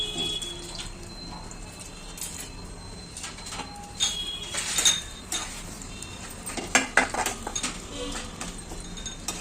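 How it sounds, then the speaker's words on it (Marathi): Spices and vermicelli are roasted in ghee in a home kitchen pan, with scattered metallic clinks and scrapes of a utensil against the pan and light rustling, irregular and fairly quiet against a faint background hum. "आता हे भाजून घ्यायचं सगळं तुपात भाजायचं"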